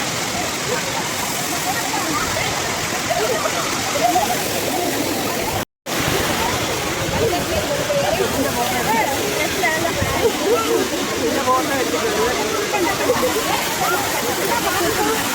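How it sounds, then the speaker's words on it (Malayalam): A waterfall at Kuttalam roars continuously with a dense, loud rush while people bathe beneath it. Voices of the crowd are mixed into the pouring water, and a brief cut interrupts the sound. "ഒരുപാട് ആളുകൾ വെള്ളച്ചാട്ടത്തിൽ കുളിക്കുന്നുണ്ടായിരുന്നു"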